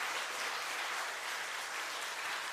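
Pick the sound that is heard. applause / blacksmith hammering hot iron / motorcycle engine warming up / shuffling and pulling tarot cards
applause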